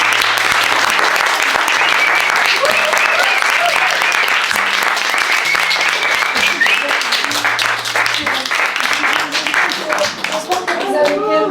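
A crowd applauds the team behind a Paris café pop-up, loud continuous clapping from many hands with a voice speaking over it and music underneath.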